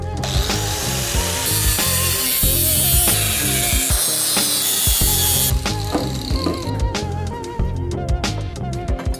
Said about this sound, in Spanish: Ahora voy a cortar por aquí y quitar ya el tubo de dirección viejo.